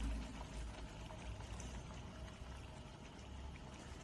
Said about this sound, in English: I'm going to pour about probably about 20 to 30 ml of coconut milk